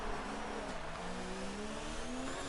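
Race car engine in a sim racing game at the Australian GP, a steady high engine drone that drops in pitch on a downshift from sixth to fifth gear, then climbs again, fairly quiet.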